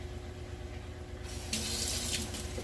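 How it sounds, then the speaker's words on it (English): A kitchen tap switches on partway through and runs water into a bowl while sofrito is being made, a bright, steady splashing stream over a low background hum. "Put a little bit of water on here."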